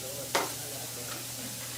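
Onions sweating in a pan with a pinch of kosher salt, a soft steady sizzle broken by one clear stir or scrape of a utensil close by.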